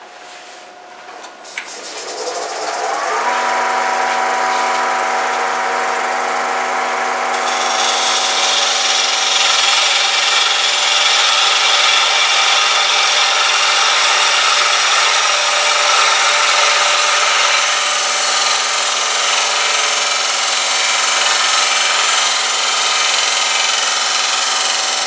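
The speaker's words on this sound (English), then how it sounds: "all I want to do is just do a light cut on this right here" A gouge taking a light truing cut on a wooden peppermill spinning on a lathe, starting with a brief contact, then a steady, loud scraping hiss over a constant motor hum that holds for the rest of the span.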